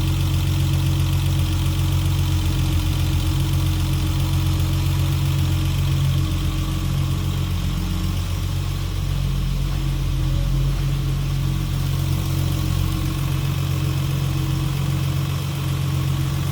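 A 1973 Triumph GT6 Mk III with a 2-litre inline six and dual carburettors idles steadily, a loud, even low rumble with a constant engine hum and no voices.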